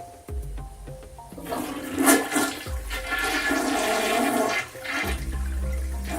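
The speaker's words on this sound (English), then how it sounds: "give this little guy a flush" A toilet flushes with the tank lid removed, giving a loud rushing swirl of water that surges and then drains away over a few seconds, with low music underneath.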